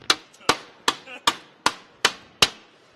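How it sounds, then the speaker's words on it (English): Hammer blows on a metal stretcher in a garage: seven sharp, ringing strikes, each about a third of a second apart, close and loud in a quiet room. "Do you want him to hammer some?"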